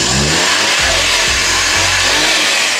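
A Suzuki Every Wagon's small turbocharged engine revs repeatedly, its pitch rising and falling through several blips over a steady loud idle, heard close up under the open hood with no talking.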